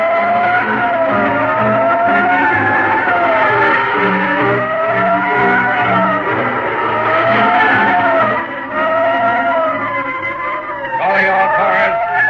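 A Studebaker sedan roars at speed with engine revving and tires squealing through skids, loud and continuous, in a 1936 radio drama about a San Quentin prison breakout.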